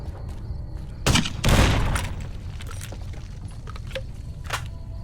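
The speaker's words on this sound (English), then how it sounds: "Try a grenade rifle." A grenade rifle fires in the game Fallout New Vegas, sending out a couple of sharp booming blasts close together. Fainter cracks and clicks follow.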